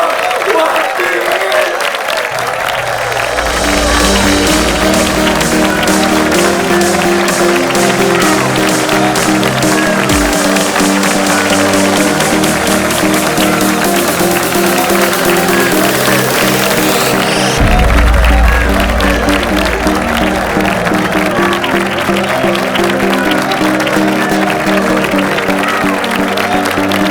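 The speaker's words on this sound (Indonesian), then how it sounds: "Semuanya beri tepuk tangan yang meriah untuk King" Guests at a lavish birthday party applaud and cheer, a dense, loud, sustained wash of clapping that runs nearly half a minute over music, with people talking through it.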